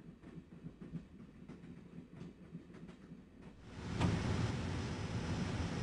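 A train rolls along the tracks in the video game Broken Sword, steady clickety-clack rhythm at first, then swelling into a louder, continuous rumbling rush close by.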